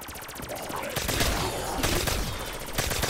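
Rapid automatic gunfire in Call of Duty: Black Ops III zombies mode, bursts of rattling shots close up and fairly loud, with a player's voice talking over part of it.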